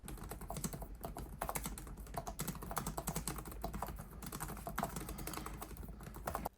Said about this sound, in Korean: 키보드는 갤럭시북 4 프로의 키보드와 동일한 것 같습니다